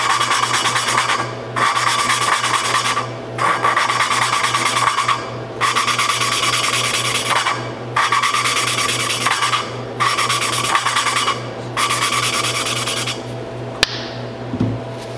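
An engine valve is lapped against its seat in a cylinder head with lapping compound, giving a steady gritty rasping scrape in repeated strokes of about two seconds each with short pauses between them, close and fairly loud.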